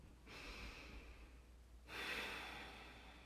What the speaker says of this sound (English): Just breathing in and out of your nose, high into your forehead, and expanding your body out as you breathe.